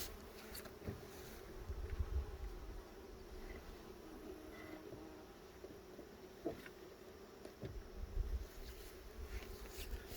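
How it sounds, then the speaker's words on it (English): Honey bees swarming around an opened brood box during a hive inspection: a continuous, even buzzing hum from many insects close by, with faint rustles and bumps of handling. "look at all those bees"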